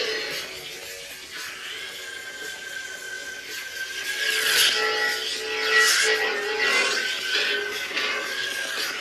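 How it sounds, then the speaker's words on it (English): A Thor-inspired Thunder God lightsaber sound font by Korbanth: a crackling, rasping lightning summon swells into a bright, buzzing blade ignition that holds as a steady, sizzling hum with surging peaks. "So you summon the lightning, and then it ignites the blade."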